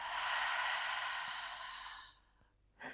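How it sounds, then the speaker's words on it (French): A long, breathy exhale through the mouth during a yoga session, close and soft, fading out over about two seconds before a quick new intake of breath at the end. "J'expire par la bouche."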